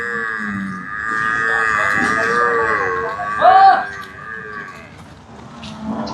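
A Murrah buffalo at a dairy farm near Hyderabad gives a long, loud, close moo that rises into a strained bellow about halfway through, with faint rustling and other livestock in the background.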